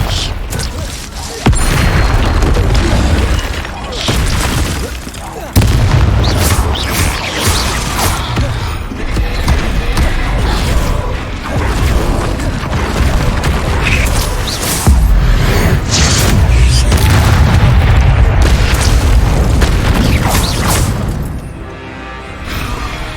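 Spell explosions in the video game Hogwarts Legacy, a loud dense stream of magical booms, crashes and whooshes that continues without pause, with game music and effects layered throughout.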